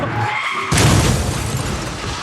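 A car chase sequence in the film One Battle After Another, where a sudden loud burst of skidding tyres and roaring noise cuts in under a second and holds as a dense, sustained wash.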